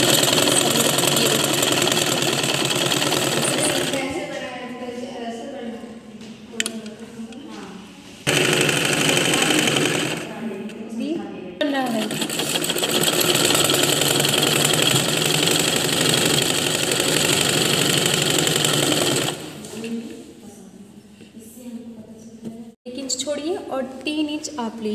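A sewing machine stitches fabric for a smocking frock, its steady, loud mechanical whir running in long bursts separated by short pauses, with someone speaking during the gaps.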